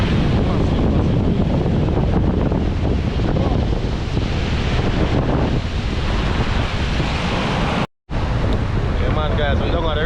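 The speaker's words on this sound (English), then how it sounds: "So massive wave." Massive surf and strong gusting wind at a river mouth in Jamaica during Hurricane Melissa, a loud continuous roar of crashing waves with heavy wind buffeting the microphone, cut by a brief dropout near the end.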